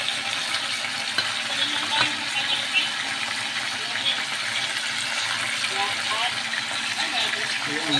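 Balsamic vinaigrette pork steak fries in a pan, half-cooked on one side, giving a steady crackling sizzle and hiss throughout while a person talks over it.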